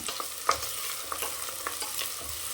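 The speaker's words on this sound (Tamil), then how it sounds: "நல்லா இந்த எண்ணெயிலே வதக்கிவிடுங்க" Chili powder, turmeric and salt sauté in hot oil with a soft continuous sizzle, broken by a few light spoon scrapes and taps nearby. No voices are present.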